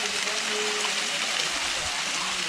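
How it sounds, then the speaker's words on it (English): Scalding hot spring water gushes and splashes in the Black Canyon of the Colorado River, a loud, continuous close-up rush with no pauses. "There's water coming out all over here, but splashes"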